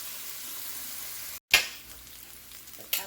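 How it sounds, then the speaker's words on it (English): Spinach sizzles steadily in a hot frying pan alongside peppers and garlic, a continuous close hiss with a brief gap and a louder burst of crackle as food is stirred, no voices. "And then the last thing will be my spinach. Alright, so let that sizzle a bit."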